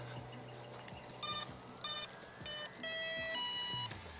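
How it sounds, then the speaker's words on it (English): Several electronic beeps sound in short bursts, a few tones in a row, ending with a longer steady beep signalling the brake released, over a low engine hum. "that last beep means that your brake is off"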